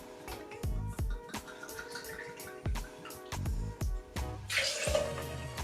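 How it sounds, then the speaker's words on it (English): Calvados apple brandy pours into a cocktail shaker filled with ice. Quiet, irregular clicks and knocks are followed by a short liquid splash and trickle, all close by and faint. "the first ingredient to go in, guys, is 60ml or 2 ounces of apple brandy"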